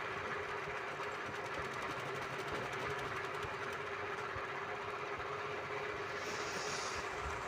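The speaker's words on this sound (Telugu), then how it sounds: "ఇప్పుడు ఈ రెండింటికి మిడిల్లో మనం ఇప్పుడు ఆర్మ్ రౌండ్ దగ్గర నుంచి స్టిచ్ చేసుకుంటాం అన్నమాట." A sewing machine stitching a blouse around the armhole, a steady rapid mechanical chatter running without a break, close and fairly quiet, with no talking.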